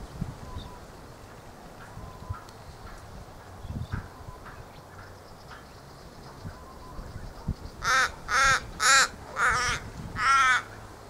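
Raven giving five loud, evenly spaced harsh caws near the end, each a short rasping burst, over a faint outdoor background with soft distant bird calls earlier.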